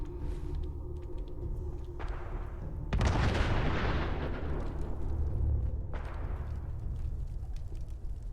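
Artillery fire support in Fallout 4: deep booming blasts with a heavy rumbling roar, one big impact swelling up and a second landing a few seconds later, loud and close over a continuous low din.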